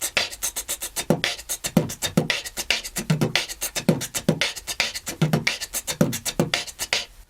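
A human voice beatboxes a drum pattern, imitating kick drum, snare drum and hi-hat: crisp, fast hiss-like hats fill every gap between punchy low kicks and snares in a steady sixteenth-note groove, close and alone.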